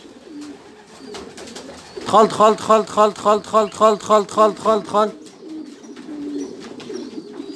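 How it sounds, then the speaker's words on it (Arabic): Pigeons coo close by in a loud, regular run of about ten rhythmic throaty coos, with a voice chanting a repeated word in time and softer background sounds before and after. "فين هو هاد الحمام هذا؟"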